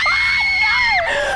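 A loud, piercing jumpscare scream from the horror game The Texas Chain Saw Massacre, one sustained shriek that wavers and drops in pitch toward the end.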